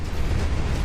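Turrets firing explosively at wagons in the Mad Merchant train management game, a dense continuous low rumble of blasts running without a break through the whole short stretch.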